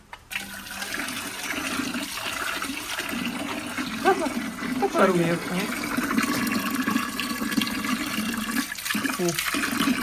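Warm water runs steadily from a tap in a continuous rushing stream, with a few brief words spoken over it.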